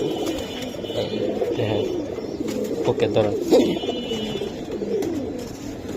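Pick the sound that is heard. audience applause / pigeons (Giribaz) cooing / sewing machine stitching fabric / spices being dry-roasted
pigeons (Giribaz) cooing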